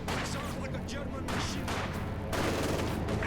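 Machine gun and rifle fire crackle through a Company of Heroes 2 battle in snow, dense overlapping bursts and shots under a commentator's continuous talk.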